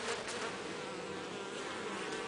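Honeybees hum in a dense, continuous buzz at a beehive in swarming mode, a faint but steady drone of many insects with no pauses or voices.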